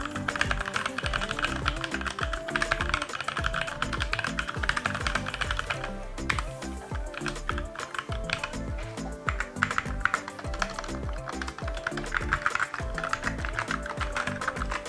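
Rapid typing on a HyperX Alloy Origins 60 mechanical keyboard gives dense, clacky keystrokes in quick irregular bursts, close and crisp, continuing without pause and with no talking.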